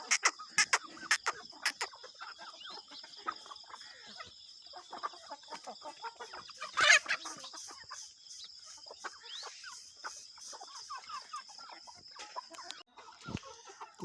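An Aseel rooster clucks in short, scattered bursts, mostly faint and close by, with one louder squawking outburst midway over a quiet outdoor background.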